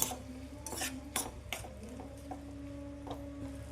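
A spoon stirs tomatoes and turmeric in a pan, making a few quick metallic scrapes and clinks close by over a low hum, then fading to softer stirring.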